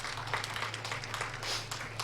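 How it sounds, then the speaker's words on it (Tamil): An audience at a Tamil pattimandram debate stage event applauds: dense, steady clapping from a crowd holding at a moderate, distant level for about two seconds, with a low electrical hum underneath. "அப்படி செய்வோன்னு சொல்றவங்க ஒரு பெரிய கைத்தட்டல் கொடுங்க"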